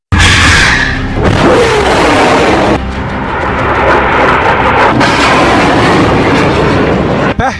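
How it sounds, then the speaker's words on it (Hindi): A rocket launch in a missile attack on Israel: a loud, sustained roaring rush with booming onsets, close and continuous, with no voices. "फिर फायर हुआ दूसरा रॉकेट, इसके बाद लॉन्च हुआ तीसरा रॉकेट।"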